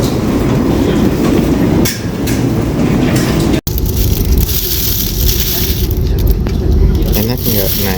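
Steady rumble and rattle of a moving train from Seoul to Busan, South Korea, heard from inside the carriage, with voices talking over the continuous noise.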